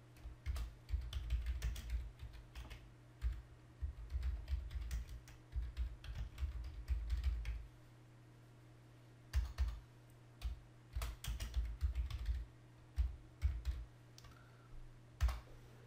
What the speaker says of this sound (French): je vais saisir le message que je veux lui envoyer